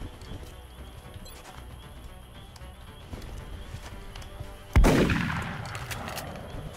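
A single heavy shotgun blast booms in the strategy game XCOM, loud and sudden with a ringing tail, following quiet ambient sounds and faint footsteps.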